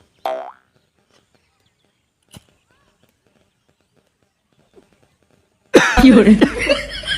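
Loud, harsh coughing bursts from a man who has just smoked a bidi, arriving abruptly near the end after mostly quiet stretches broken by a couple of faint short sounds.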